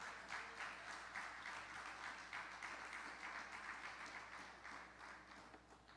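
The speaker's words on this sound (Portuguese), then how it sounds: "Quer dar um aplauso ao senhor aí para me dar um tempinho?" Sustained, fairly even applause from a church audience, a broad wash of many hands clapping that holds for several seconds with no talk over it.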